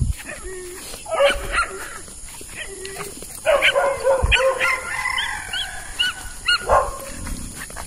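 A dog barks in a rural outdoor setting with sharp, repeated yips and barks in short bursts, some whimpering, fairly close and moderately loud.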